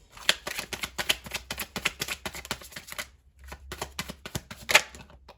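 Tarot cards riffle and shuffle close up in quick rustling bursts, a brief pause near the middle, then another run of shuffling.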